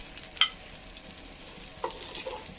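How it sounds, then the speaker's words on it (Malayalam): Fish frying in a pan for fish curry, a steady close sizzle with a few stirring or scraping clicks, heard alone. "ഈ വശം കൂടി ഒന്ന് മൊരിഞ്ഞ് വരട്ടെ."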